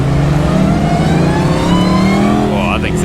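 Mopar drag racing truck engine revving up close, a loud rising roar with a voice talking over it near the end.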